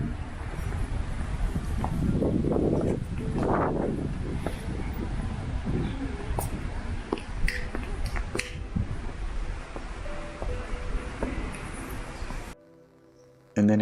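Strong wind buffeting the microphone on a hilly road in Catalunya during a bike tour; loud, steady roaring gusts swell and fade for most of the stretch, then cut off abruptly near the end.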